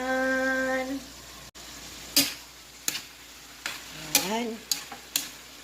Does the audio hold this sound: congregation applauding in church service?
no